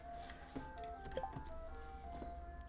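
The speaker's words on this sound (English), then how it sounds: "There's an ice cream truck in my neighborhood." An ice cream truck plays its jingle somewhere in the neighborhood, with faint, thin melody notes drifting in from a distance under steady background noise.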